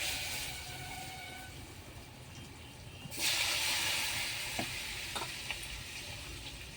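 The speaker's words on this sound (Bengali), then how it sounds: "ওই একই তেলে পটলগুলো ভেজে নেব।" Sliced pointed gourd (potol) sizzling in hot mustard oil in a pan, reused after frying rohu fish, a steady close frying hiss that surges as pieces are stirred, with a few clinks, no talking.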